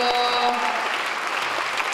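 An audience at a cosplay event at Istrocon 2012 in Slovakia applauds a costume. The clapping is dense, steady and close for about two seconds and comes on its own, without voices.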